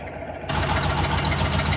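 A 1967 VW Beetle engine idles with one side of its exhaust rotted off, a rough, loud, steady rumble that jumps up in level after a brief quieter start and then holds constant.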